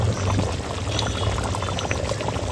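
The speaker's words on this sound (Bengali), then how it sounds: "তো মাংসটা আমার কষানো হয়ে গেছে, এবার জলটা দিয়ে দেবো।" Water poured into browned, cooked meat in a pot for biryani, a loud, continuous rushing splash lasting a couple of seconds, close up and with no voices.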